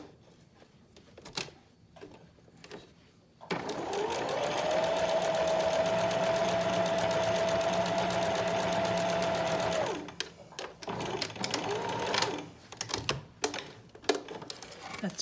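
A sewing machine stitches a seam on a fabric face mask, a steady whirring hum for about six seconds, framed by clicks and handling of the cloth before and after, with light talk nearby.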